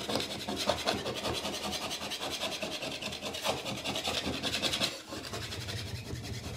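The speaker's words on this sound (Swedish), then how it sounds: "Så det är bara att börja skrapa bort det här." Softened old distemper paint being scraped off a very old wooden ceiling, a close rhythmic rasping scrape repeated in quick strokes, steady and fairly loud with no talk.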